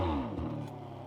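A Ferrari 599 GTB V12 engine revs briefly, its pitch sweeping down as the revs fall off, then settles into a low burble, close and clear.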